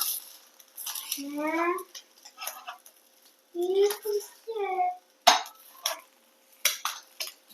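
Cutlery scraping and tapping on a plate while a fried egg bullseye is cut into pieces, with short clinks and scrapes between bursts of a voice talking nearby.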